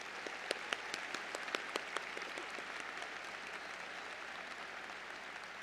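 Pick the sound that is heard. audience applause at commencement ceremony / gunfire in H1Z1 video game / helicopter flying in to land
audience applause at commencement ceremony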